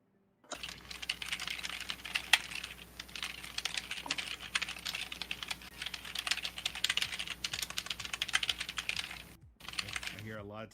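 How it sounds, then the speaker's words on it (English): Fast typing on a computer keyboard fills the clip with a dense, continuous rattle of key clicks, nearby and fairly even, stopping briefly near the end as a voice comes in. "I hear a lot of typing going on back there."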